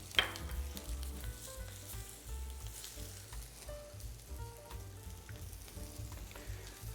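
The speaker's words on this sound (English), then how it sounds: "I cooked off some little new potatoes before, so I'm going to add that to my pan." Boiled little new potatoes fry in a hot pan over a gas flame, with a steady close sizzle and crackle punctuated by faint pops and stirring scrapes.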